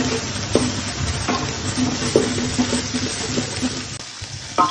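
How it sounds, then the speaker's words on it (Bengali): Spices sautéed in a pan for aloo dum sizzle steadily under intermittent stirring scrapes, close and moderately loud, dropping off briefly near the end. "এবার মশলাটাকে আমি একটু কষিয়ে নেব।"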